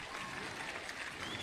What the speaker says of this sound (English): I think he deserves another big round of applause